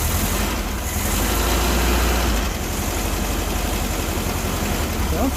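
A freshly started engine idles steadily with a low, even rumble, close and loud, holding the same rough drone without revving.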